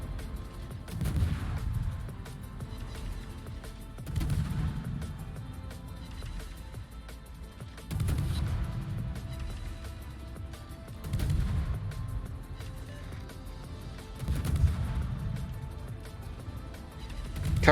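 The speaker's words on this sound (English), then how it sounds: "As soon as I say that, you switch to salvo fire." A naval battle video game fires heavy salvos in repeated deep booming bursts, roughly six evenly spaced volleys with quieter gaps between them.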